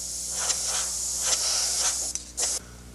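An airbrush sprays gray paint onto the nose radome of a jet aircraft model in short hissing bursts, close up, over a faint steady hum from the compressor.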